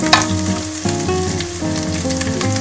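Green chillies added to hot oil for egg fried rice sizzle and crackle loudly and steadily, with stirring bursts over a continuous frying hiss and a background hum.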